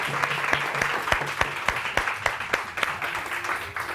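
Studio audience on a Pakistani morning TV show applauds, with dense clapping and sharp individual claps up close, steady for several seconds.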